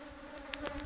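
African killer bees buzz around their hive colony in a close, steady droning hum. Brief louder buzzes come from individual bees passing near.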